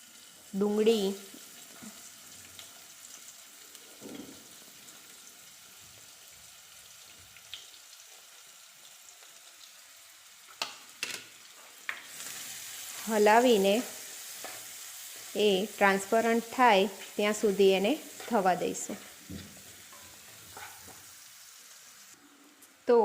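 Curry leaves and green chillies frying in hot oil for homemade masala Maggi give a steady, close sizzle with occasional stirring; a voice speaks intermittently over the frying in the second half.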